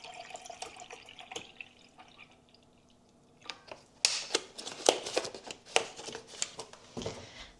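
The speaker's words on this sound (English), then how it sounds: "So I'm pouring in some milk." Milk poured from a carton into a container, a brief quiet stretch giving way to a louder, splashy run of liquid pouring with small knocks and clatters, close by.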